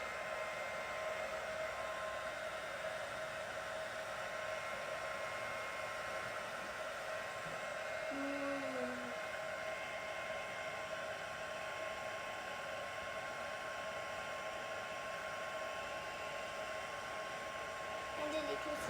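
A heat tool blows hot air in a steady, unbroken whoosh for the whole stretch, close and fairly loud, with no voices over it.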